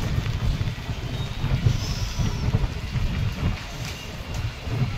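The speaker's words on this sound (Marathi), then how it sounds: "सकाळपासूनच पाऊस जोरदार आहे" Heavy monsoon rain pours steadily over a town near an airport, a dense continuous roar with low rumbling undertones, close and loud with no voices.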